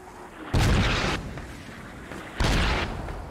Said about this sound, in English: I think that mortar might have actually killed Booty Ting